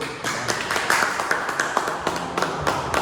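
Dense applause from a congregation at a church men's gathering, a steady mass of overlapping hand claps with sharper individual claps popping out, moderately loud and without talk.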